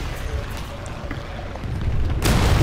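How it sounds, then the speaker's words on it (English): A bomb explodes in a video game during a plane crash landing, building into a loud, rumbling boom near the end over the game's steady background noise. "Was that a bomb?"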